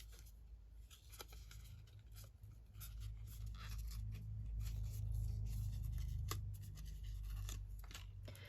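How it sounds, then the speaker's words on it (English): A word torn out of a book page for a junk journal, soft close paper rips and scratchy crinkles with a few sharper tears, quiet and alone. "So again, just tear out a word from here."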